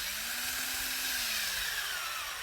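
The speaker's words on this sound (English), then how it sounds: "you can see how the drill is actually getting a little bit of moisture on it as I drill" A cordless drill bores a tap hole into a tree for backyard sugaring while the sap is running. The motor whine holds steady, rises slightly, then sags under a continuous, fairly quiet hiss, with no voices.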